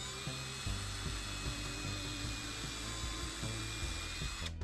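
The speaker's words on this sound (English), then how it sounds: "I got a 5/64 drill bit, so we try to get center on it" A small cordless drill spins a 5/64 bit into an old hardwood coffee table spindle, a faint steady high whine with a pulsing low motor hum, cutting off abruptly at the end.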